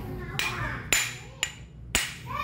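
A hammer strikes a car starter motor part during repair, four sharp metallic blows spaced about half a second apart, close and loud over faint background noise.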